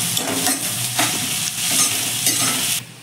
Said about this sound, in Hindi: थोड़ा प्याज ब्राउन होने तक भून लें